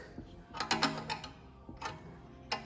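Ratchet wrench tightening the bolts of a fuel pump on a fuel tank: a few close, bursty clicking runs with short pauses between them.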